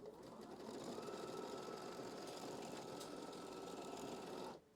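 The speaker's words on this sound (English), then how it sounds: "I'm going to stitch these two fabrics to the stabilizer." An embroidery machine stitches fabric to stabilizer with a steady, fast mechanical whirring buzz, close and continuous for about four seconds before it stops abruptly near the end.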